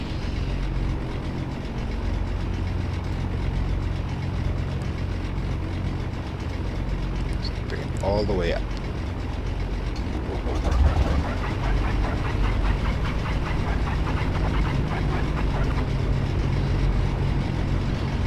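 Beech Duke piston engine number one starting up in the X-Plane 10.5 flight simulator, a steady loud engine drone that swells slightly partway through, with a brief voice heard once.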